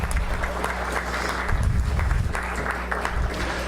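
Audience applauding during a city council session, a steady wash of clapping from a room full of people, fairly even in loudness with a low hum beneath.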